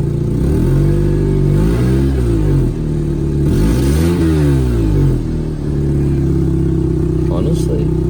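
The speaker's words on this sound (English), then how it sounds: "Give it a bit of a rev, just a bit" A cheap used Mercedes coupe with a suspected airflow sensor fault, its engine held at a loud steady idle and blipped in two or three smooth revs that rise and fall, close up and dominating throughout.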